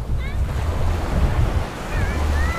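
Sea surf at Faelan Beach, Batangas, a steady low roar of waves with strong wind buffeting the microphone throughout, brief faint tonal chirps above.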